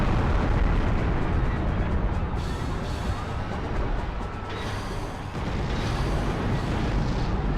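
A loud, continuous roaring rumble of a building collapsing and exploding in a video game, dense and sustained without any talking.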